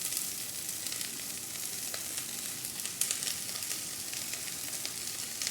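Cabbage frying in oil in a cooking pot gives off a steady, close sizzle that stays dense and even throughout, with a few sharper crackles and the light sounds of stirring.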